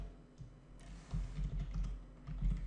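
Fingers type on a computer keyboard in a quiet room, a soft run of close key taps that quickens and grows a little louder partway through.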